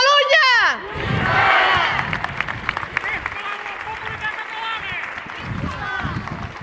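Applause ripples through a crowd at an outdoor rally in Mercadal square marking the first anniversary of 1 October. A short burst of clapping follows a voice, then thins out beneath scattered chatter.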